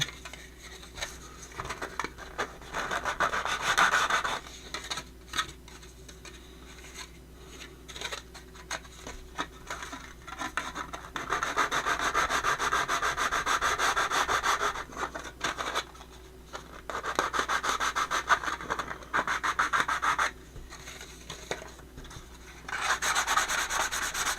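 Sandpaper rubbing back and forth on wood as a long-unfinished project gets finished, a close, steady scratchy rasp in repeated strokes with brief pauses, no voices.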